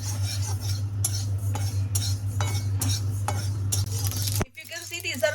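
Sesame seeds are tossed and stirred in a pan with a utensil, giving steady scraping and clinking close by over a constant low hum, ending abruptly.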